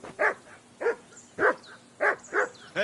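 Mutt, a dog in Kingdom Come: Deliverance II, barks six times in a steady rhythm, each bark sharp and fairly close against a quiet background.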